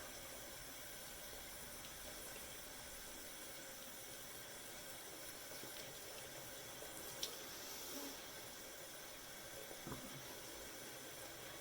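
Warm tap water runs steadily into a bathroom sink, a continuous faint hissing flow with no talk over it.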